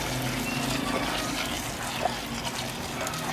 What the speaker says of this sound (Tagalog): Ang gagawin ko dyan, bubuhusan ko siya ng kumukulong tubig.